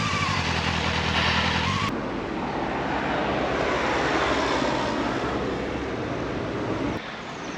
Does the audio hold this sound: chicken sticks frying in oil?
no